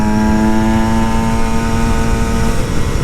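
A two-stroke Aprilia SX-125 supermoto engine holds a steady, loud, buzzing rev with a strong tonal whine that sags slightly toward the end, close and continuous with no voices.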